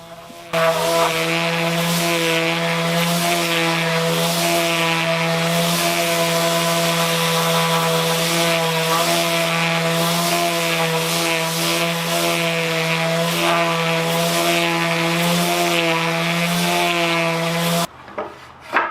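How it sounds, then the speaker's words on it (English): A continuous motorized whine with a steady droning pitch and a gritty abrasive rasp, a power sander working on wooden rack legs and pegs, running nonstop and close. "So here's the last step for sanding, I suppose. I'm sanding both legs"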